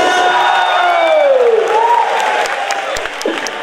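A crowd at a Dota 2 International 2015 pubstomp event applauds and cheers loudly, with whoops over dense clapping, while an amplified voice with a sliding pitch runs through it.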